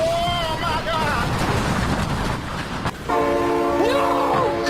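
A train in BeamNG.drive thunders past with its horn blaring in long sustained tones, loud and close, while people shout excitedly over the rumble.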